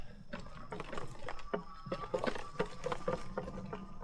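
Light drizzle falling in wooded bottomlands strewn with hurricane-felled trees, heard as quiet, scattered drips and soft irregular patter close by.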